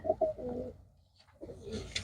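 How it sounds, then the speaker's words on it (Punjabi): Pigeons kept for sale coo softly in a couple of short, low murmuring phrases with a brief quiet gap between them, heard up close and without speech. "ਕਬੂਤਰ ਇੱਕ ਤੋਂ ਇੱਕ ਆਏ ਹੋਏ ਨੇ"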